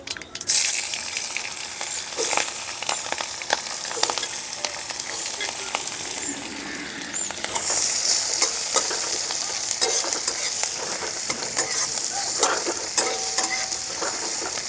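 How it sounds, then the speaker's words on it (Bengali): Carrot, onion and green chilli hit hot oil for suji upma, with a loud hiss that swells as they go in and then settles into a steady close sizzle with faint stirring clicks. "এখন গাজর, পেঁয়াজ আর কাঁচা লঙ্কাটা দিয়ে দিচ্ছি তেলের মধ্যে।"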